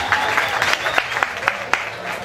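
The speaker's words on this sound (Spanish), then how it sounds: "Un aplauso para Sena." At a pig carcass evaluation contest, a small crowd gives brief, scattered applause for the second-place finisher, with a voice speaking over the clapping.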